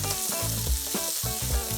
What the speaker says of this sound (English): we're just going to pan fry this in all the bacon fat